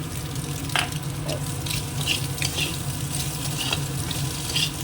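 Grated egg frying in a pan with a continuous bright sizzle and crackle, punctuated by scraping strokes of a spatula as it is stirred and mixed in, close and fairly loud, no talk.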